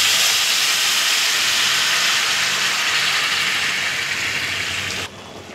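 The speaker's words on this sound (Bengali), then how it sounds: "এবার গরম জলটা দিয়ে দিব।" Hot water poured into a pan of frying fish curry sets off a loud, continuous steam hiss and sizzle that holds steady, then drops suddenly near the end, with no talking.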